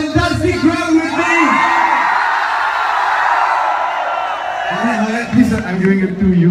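A crowd at a Radio Mirchi studio event in Ahmedabad whoops and cheers loudly, a sustained roar of yells swelling in the middle with voices talking and shouting over the start and end.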